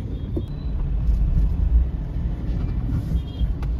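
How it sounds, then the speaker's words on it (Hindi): City road traffic in Jaipur, heard from a moving vehicle, gives a steady low rumble of engines and tires throughout. Faint higher horn-like tones come through now and then. "इतना ट्रैफिक है"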